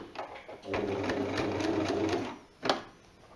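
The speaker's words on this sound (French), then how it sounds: "On va commencer par un point arrière." A domestic sewing machine runs a short backstitch at the start of a seam on parasol-cover fabric, a steady close whirring burst lasting a few seconds, then stopping, followed by a brief click.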